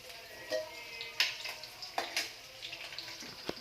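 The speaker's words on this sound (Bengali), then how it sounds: "এই যে এখন রসুন দিচ্ছি" Crushed garlic frying in hot oil in a pan for dal gives a faint, steady sizzle with scattered small pops and crackles.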